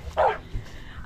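A dog barks at the top of the Lovers Leap cliff climb, giving two short, close barks about a second apart.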